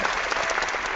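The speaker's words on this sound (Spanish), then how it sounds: "quiero darle un aplauso a Lides" Applause greeting a participant in an online entrepreneurship hangout: a dense, continuous patter of clapping hands, close and fairly loud, lasting only a moment.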